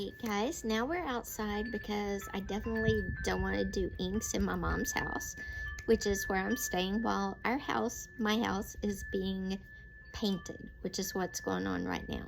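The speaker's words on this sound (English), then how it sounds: "Excuse the wind chimes." Wind chimes tinkle outdoors in a breeze, a faint ringing kept low beneath someone talking steadily throughout.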